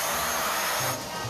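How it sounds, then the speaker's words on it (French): Household vacuum cleaner running in the morning, a loud, steady broadband whoosh with a slight drop in pitch and load partway through, close and continuous with no talk. "Ça me saoule, hein, de passer l'aspirateur le matin."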